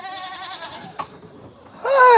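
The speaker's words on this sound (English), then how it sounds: "I'm being attacked by baby goats left and right." Baby goats bleat in a wavering, harmonic cry lasting about a second, followed by a brief click and then a louder, closer bleat starting at the end.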